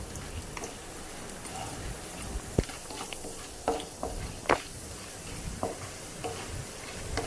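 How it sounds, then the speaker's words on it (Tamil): Chana dal frying in oil in a pan, a continuous close sizzle with occasional sharp clicks and scrapes of stirring, no voices. "ஒரு பேனில் ஆயில் விட்டு கடலப்பருப்பு போட்டு நல்லா வறுத்துக்கோங்க"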